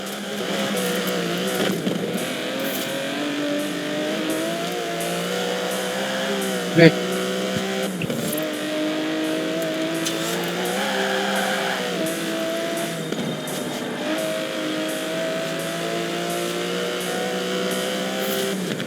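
An Aston Martin DB11 with a 5.2-litre twin-turbo V12 revs steadily and loudly throughout, its pitch rising and falling, with a sharp brief knock near the middle and possible voices underneath.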